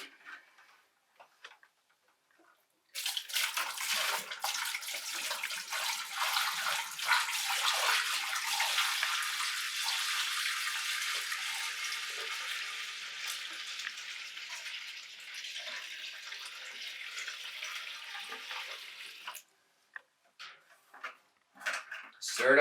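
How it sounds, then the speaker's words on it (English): Wine must with settled sediment and yeast is stirred in a bucket, a continuous sloshing swish that starts abruptly after a few quiet seconds, rolls back and forth for about sixteen seconds, then stops, with faint knocks at the edges. "So every now and then you want to stop and give it a good mix at the bottom."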